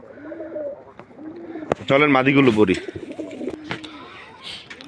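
Racing pigeons coo softly near and far in repeated low, throaty phrases, while someone speaks briefly over them.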